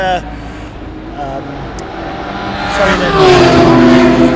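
GT and sports cars race on track at a Power Series round; engine roar swells and rises in pitch toward the end as a commentator talks over it.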